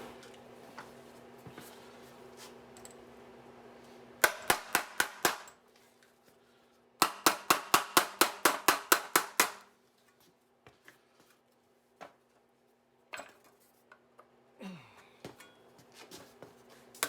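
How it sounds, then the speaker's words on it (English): A hammer peening a sheet metal floor patch on a 1970 car, loud close metallic raps in two rapid runs of about five and ten blows, then a few isolated taps and light scraping. "we'll just peen this back over this way a little bit to get our other angle bent that way"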